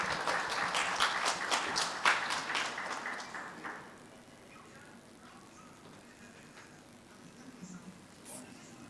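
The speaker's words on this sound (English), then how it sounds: "Let's give them a round of applause." Applause from a conference audience at a debt and development gathering, a brisk burst of many hands clapping that swells, peaks, then fades out after a few seconds into a quiet room murmur.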